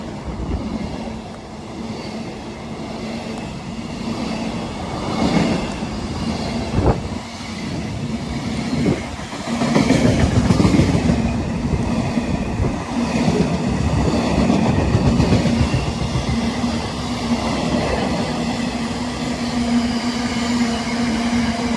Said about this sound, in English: Right, stand by for the next train.